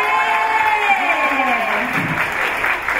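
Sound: audience applause and cheering for a guest

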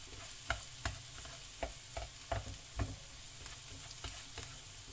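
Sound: sautéing corned beef with potatoes and carrots

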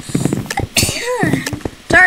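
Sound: sneeze

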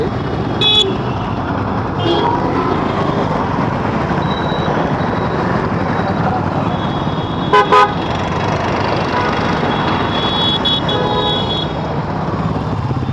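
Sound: busy city road traffic with car horns honking

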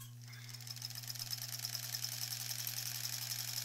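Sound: sewing machine sewing a quilt seam

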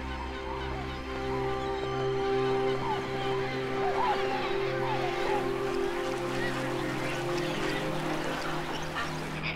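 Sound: birds at Lake Nasser

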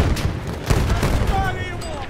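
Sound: grenade explosion in video game Battlefield 1

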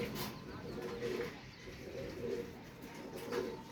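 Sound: male high-flyer pigeons cooing

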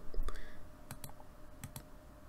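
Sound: mouse clicks in Clip Studio Paint editing

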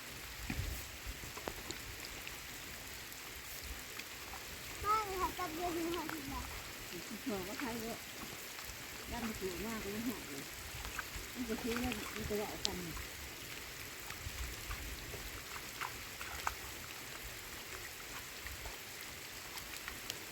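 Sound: rain falling

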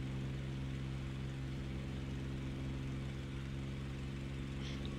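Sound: propeller warbird taking off in DCS flight simulator video game

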